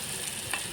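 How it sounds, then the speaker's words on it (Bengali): Ingredients sizzle in a pan while being fried for one-pot Maggi noodles, a steady close hiss with a brief stir near the end. "লাল লাল করে ভেজে নেব, তারপর জল আর ম্যাগিটা অ্যাড করব।"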